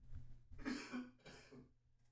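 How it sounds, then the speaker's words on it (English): Two short coughs, close and fairly quiet, with a brief pause between them and no speech around. "Cough came in good."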